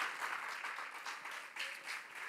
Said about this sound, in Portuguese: Aplauda forte ao Senhor.